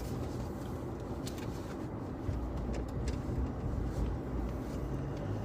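A car drives along a road beside a reservoir dam, its steady low engine and tyre rumble continuous and fairly quiet, with no talk over it.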